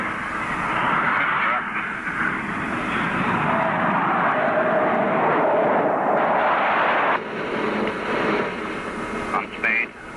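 Loud, steady roar of a jet aircraft engine on a priority landing approach, a continuous broadband rumble and whine filling the whole stretch with slight surges, with faint radio-like chatter underneath.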